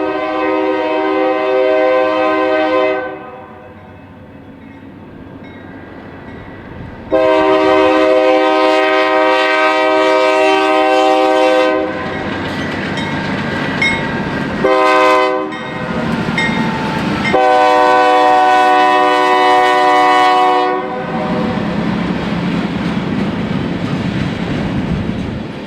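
A freight train led by two former CSX GE Dash 8-40CW locomotives sounds its horn in several long, loud, harmonic blasts with brief gaps, over the heavy rumble of the train passing close by.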